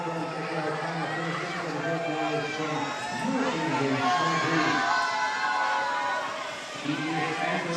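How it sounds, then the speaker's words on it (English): Spectators at a women's bouldering final in Prague cheer and whoop for a climber coming onto the wall, a loud sustained crowd roar with a commentator's voice over it. "So Zelia Abazu gets a big cheer as she comes on."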